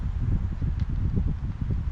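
Steady low rumbling wind buffets outdoors at an airgun range, a continuous gusty roar with faint rustling on top, no voices.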